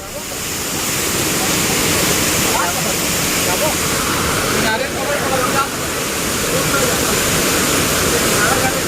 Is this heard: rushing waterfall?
yes